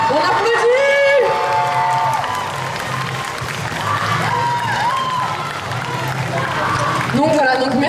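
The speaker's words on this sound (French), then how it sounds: "On applaudit." Audience applause and cheering for a cosplay contestant on stage at a convention costume contest, sustained crowd noise throughout with an announcer's voice speaking over it.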